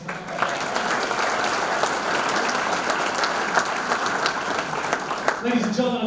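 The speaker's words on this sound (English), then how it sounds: "Give all of our VIPs a very big round of applause." A crowd at a sports hall of fame ceremony claps for VIPs in the room, a sustained, even round of applause with a voice speaking over it near the end.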